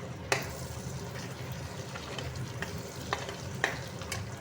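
Burji eggs fry and crackle in a pan, a soft, continuous sizzle with occasional sharp clicks of a spoon stirring against the pan.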